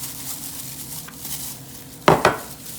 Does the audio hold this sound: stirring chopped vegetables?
yes